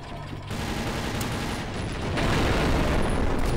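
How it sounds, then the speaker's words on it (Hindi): A dense, roaring explosion in the PC shooter game TimeShift fills the clip with loud, continuous blast noise and debris rumble, swelling stronger in its second half. "वाह क्या धमाका हुआ है"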